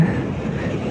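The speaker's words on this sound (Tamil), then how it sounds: "ட்ரெயின் போதுங்க மேலே" A heavy rumble of a train passing overhead on a Yamuna river bridge in Agra, steady and fairly loud, with a broad low roar and no voices.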